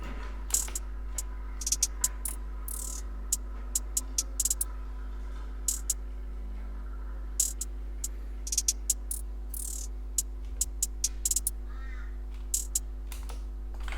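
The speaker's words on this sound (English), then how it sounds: "this is what the hi-hats sound like by themselves" Crisp, ticking hi-hat hits in a fast, uneven pattern with quick rolls and bursts, playing alone over a steady low hum.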